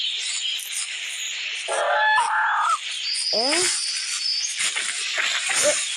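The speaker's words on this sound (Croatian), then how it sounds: "Gledajte ove ptičice." Chirping bird calls in a Pachycephalosaurus simulator video game, a few short descending and looping calls over a steady ambient wash, moderately loud with no talk.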